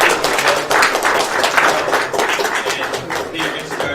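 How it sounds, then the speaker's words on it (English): Audience at a political education meeting giving a round of applause, a dense and steady wash of many hands clapping indoors, loud and sustained throughout. "Let's give a round of applause."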